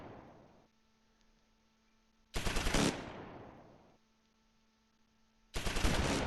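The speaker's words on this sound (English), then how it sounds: "Go ahead and open up with the machine gun." Machine gun fire in the World War II strategy game Close Combat IV comes in two loud, sharp rattling bursts, each ending in a decaying echo, separated by a near-silent pause.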